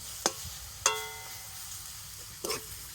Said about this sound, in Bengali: সিদ্ধ করা ডিম সেটা দিয়ে দেব। তো সেটাকে একটু তেলের সাথে ভেজে নেব।